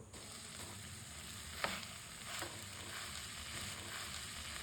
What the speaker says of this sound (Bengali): ভালোভাবে নাড়াচাড়া করতে থাকো বেশ খানিকক্ষণ ধরে